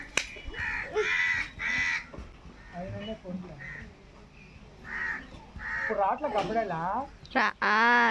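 Crows caw near a guava tree, several loud harsh calls coming in bursts, some close and some farther off, mixed with people talking.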